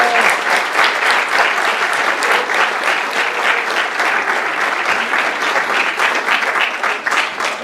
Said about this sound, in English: Give them a little applause there.